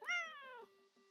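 A single close, clear cat meow, rising then trailing off into a short fading tail.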